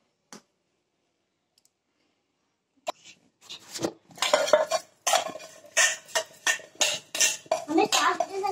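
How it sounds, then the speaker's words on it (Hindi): A spoon clinks and scrapes against a cup as milk is stirred into a drink, close rhythmic strokes starting after a couple of faint ticks and growing steady, with no talking over it. "अब इसको हम हिला लें"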